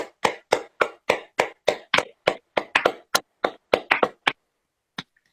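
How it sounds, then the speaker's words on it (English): Sparse, hollow hand claps ring out one after another at a steady pace for a jam skater, the small applause tapering off into silence with one final clap. "Let's have a round of applause for the jump skater."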